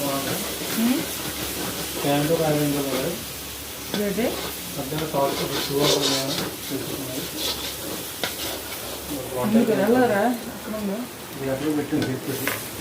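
Steady sizzling of chicken curry for biryani frying in a pan with scraping stirring strokes, while a person talks over it throughout.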